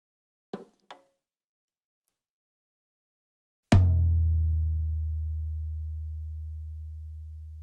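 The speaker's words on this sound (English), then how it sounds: "So it gives you a great example of what the micro Ds sound like on a drum set." Drum set recorded with Audix Micro D microphones: two light taps, a pause, then one hard drum hit with a deep, booming low tone that rings and slowly fades over several seconds.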